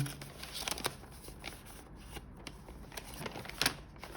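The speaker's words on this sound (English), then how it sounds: "then we fold it like so" Paper is folded by hand into a cube-shaped origami masu box, giving soft, quiet crisp rustles and light creasing taps at an uneven pace.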